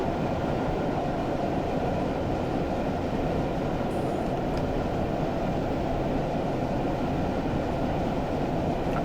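A train runs on the Stour Valley Railway near Haverhill in Train Simulator Classic, producing a steady, loud rumble of wheels and carriages with no break across the whole stretch.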